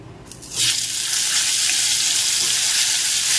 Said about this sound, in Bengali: প্রথমেই ফুলকপিটা ভেজে নিচ্ছি